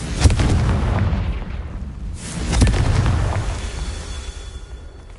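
Confringo fire spell in Hogwarts Legacy bursts in two loud booming explosions, the first sharp at the start and a second heavier blast midway, each trailing into a fading rumble with a faint high tone lingering.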